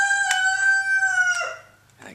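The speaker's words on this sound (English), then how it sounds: "And that goddamn rooster's..." A rooster crows loudly and close by, one long drawn-out call with a sharp clipped start and a falling end, followed by a brief rustle.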